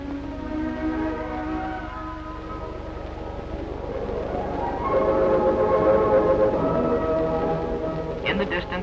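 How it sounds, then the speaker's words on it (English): A train from Busan rumbles in from a distance during the Korean War, growing louder, with a sustained horn tone rising partway through and a voice speaking over it. "In the distance we see approaching the train from Busan"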